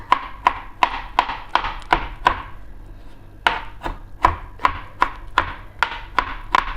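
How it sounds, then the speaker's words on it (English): Garlic cloves being chopped by hand with a knife on a board, a steady run of about sixteen crisp, close chopping strikes at an even rhythm, with no voices. "After chopping my garlic, I still go in there with a knife like this."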